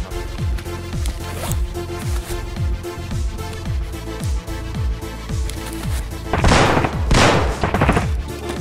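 Rapid bursts of automatic gunfire in Escape from Tarkov, a steady run of sharp repeated shots for most of the stretch, then louder, denser blasts near the end, with no talking.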